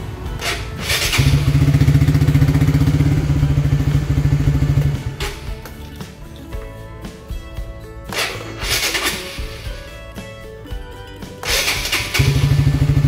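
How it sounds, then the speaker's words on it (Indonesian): Honda motorcycle electric starter cranking on a weak, run-down battery, sluggish whirring bursts repeated three times with pauses between, close and fairly loud, the engine not catching. "Nah dia udah tidak nyala ya, kita coba starter"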